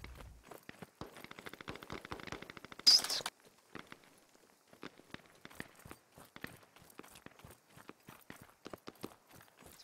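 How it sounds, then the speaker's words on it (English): Rapid bursts of distant gunfire in the video game Squad crackle in quick volleys, then continue as scattered sharp shots with quiet gaps, with one louder burst partway through, on the Kohat Toi River Valley map. "Oh, we hear gunfire."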